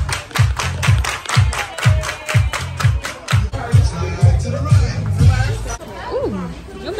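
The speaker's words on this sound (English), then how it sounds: "Everybody clap your hands." A crowd claps hands together in a steady, rhythmic beat, loud and close, with a hubbub of voices and chatter rising beneath and continuing after the clapping stops.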